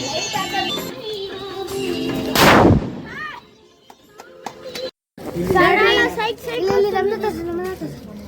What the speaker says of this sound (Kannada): ಪಟಾಕಿ ಹೊಡಿತಾ ಇದೀವಿ ನೋಡಿ ಈಗ.